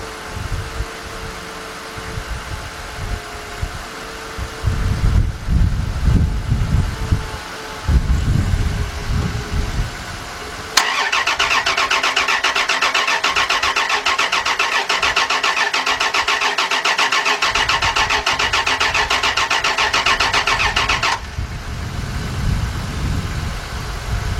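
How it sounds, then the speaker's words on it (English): A 1999 Dodge Dakota 3.9 V6 on jumper cables cranks loudly in bursts, then a steady high whining drone holds for about ten seconds before rough cranking returns, with no voices. "Let's crank it over again."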